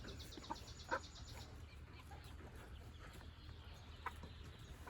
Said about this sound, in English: The happy hens are a little unhappy at the moment.